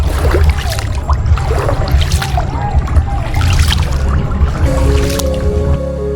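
A calm boat ride on the water in Hoi An, with close splashes and drips of water against the hull and a low rumbling hum underneath, ending in a steady tonal drone.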